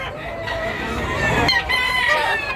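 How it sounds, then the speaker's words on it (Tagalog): A large rooster crows at Tabunok market in Cebu, its harmonic call rising and stretching over a busy background of market din, close and fairly loud, with a second crowing phrase following. "Gwapo sa do, big size nga manok."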